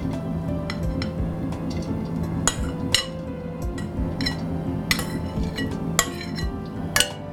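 Metal spoon scraping and clinking against a small handi pot while rice and gravy are layered in for vegetable biryani, with sharp clinks scattered over a steady low kitchen hum.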